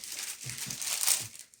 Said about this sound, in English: Whoops, I dropped the plastic bag there, Bill.